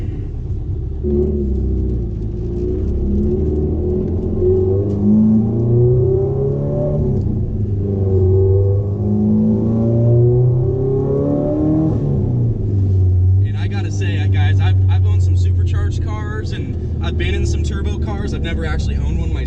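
A factory-turbo 2.5-liter four-cylinder Subaru boxer engine in an STI revs up and down repeatedly with a deep, loud rumble, then settles into a rough idle with a raspy, crackling exhaust.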